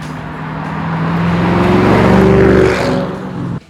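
A 2005–2010 three-valve S197 Mustang fitted with an Accelatech axle-back exhaust gives a loud, deep rumble that swells and rises in pitch as it revs or passes by, then drops away abruptly at the end.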